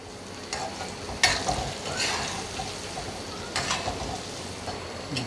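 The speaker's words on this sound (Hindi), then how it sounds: "मैं इस तरह से इसको मीडियम फ्लेम पे फ्राई कर रही हूँ" White chickpeas frying in oil over a medium flame, a soft continuous sizzle with a few sharp spatula clacks and scrapes against the pan, heard up close without any talking.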